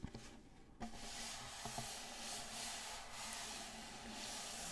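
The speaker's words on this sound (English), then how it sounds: "rub the back, you can hear that there's a sound that comes through the hole" Close, steady rubbing on the painted wooden back of a hand-painted ukulele, a soft continuous scraping hiss that resonates through the sound hole, with a couple of faint taps near the start.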